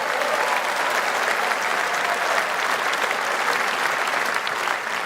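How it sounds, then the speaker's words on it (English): A large audience claps steadily and loudly for several seconds, a dense wash of applause that barely fades until the very end. "give her a round of applause"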